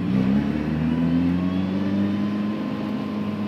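A Funyo prototype race car's engine drones steadily and loudly as it pulls away at a race start, the tone rising slightly with a constant roar and no voices.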